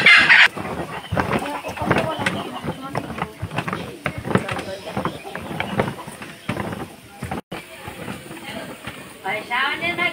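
Chickens cluck intermittently in a busy, noisy workplace in Tangail, partly buried under constant chatter and background clatter.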